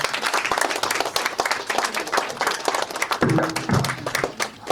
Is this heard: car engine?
no